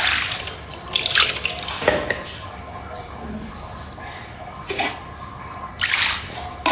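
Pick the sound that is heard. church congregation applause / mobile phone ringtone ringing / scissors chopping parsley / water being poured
water being poured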